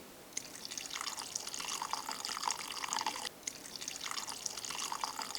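Boiling water poured into a pot of chopped morel mushrooms with scallion, ginger and peppercorns, heard as a steady, continuous watery rush at close range, with one brief break partway through and no talking.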